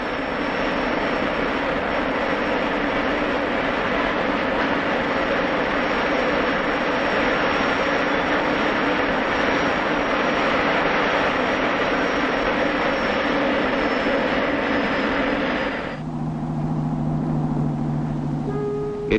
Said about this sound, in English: All its power, it's the simplest aircraft engine ever devised.